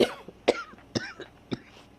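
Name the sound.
coughing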